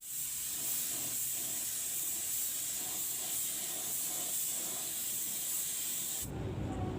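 Clear coat sprayed over an airbrushed premium bird cage: a steady, close, loud hiss of the spray gun that runs continuously for about six seconds, then cuts off and leaves a low rumble.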